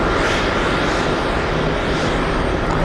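Loud, steady roar of an airplane engine taxiing on a runway at JFK airport, a continuous broadband rumble heard alone with no talk.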